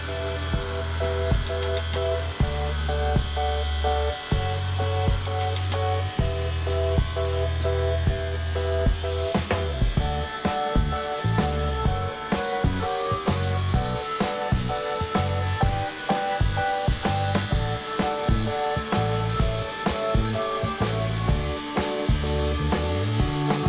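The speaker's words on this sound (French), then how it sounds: "on va voir à la scie circulaire ce que ça fait" A circular saw whines at a steady pitch, then bites into wood being cut for kitchen spatulas in repeated gritty cutting passes, loud and close throughout.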